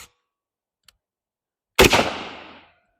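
A single sharp gunshot cracks out nearby, a Federal Law Enforcement 62 grain 5.56 round fired from a 16-inch barrel, followed by a short decaying echo, with faint clicks before it.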